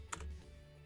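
A computer keyboard is typed on with a short burst of clicking keystrokes near the start, then fades to a quiet room hum. No one speaks.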